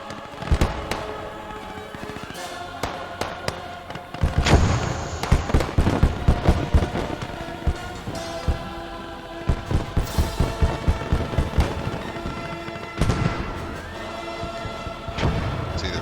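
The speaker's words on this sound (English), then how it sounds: "Rocket artillery headed over to the northeast side." Rocket artillery in the WWII strategy game Gates of Hell, where an SC-152 is also in play: loud, irregular booms and thuds, then a rapid ripple of explosions in the middle, alone with no voices.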